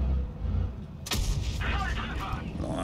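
A tank gun in World of Tanks Blitz fires once as a sharp, loud boom midway, followed by lingering rumble and game effects under low background sound.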